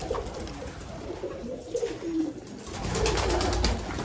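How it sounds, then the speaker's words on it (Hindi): Pigeons coo in soft, low, repeated calls at close range, with steady background noise and no talking. "ये कबूतर हैं"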